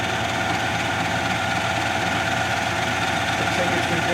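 A Clausing Model 2275 20-inch drill press with an 1140 RPM motor runs at its high speed of about 1333 RPM, giving a steady, smooth motor hum with no load or pauses.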